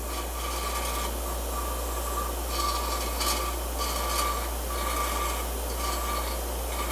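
A file rasps with a steady rubbing stroke along the sharp edges of a broken steel excavator pin, chamfering them; the scraping runs continuously and fairly close, with no talk.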